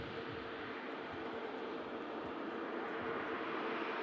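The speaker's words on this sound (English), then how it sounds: "The Airbus A350 vacating." An Airbus A350 jet vacating the runway at Manchester Airport produces a steady, distant engine roar and broad rumble that holds evenly throughout, with no voices.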